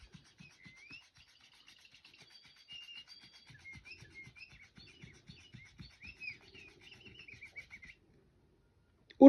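A small bird chirps in quick, faint, twittering bursts against a quiet background, mixed with soft rubbing and scratching sounds, then a sudden loud knock at the very end.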